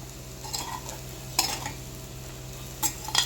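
Plantain fry is stirred in a pan, giving a low steady sizzle with a few distinct scrapes and knocks of a spatula against the metal and no talking.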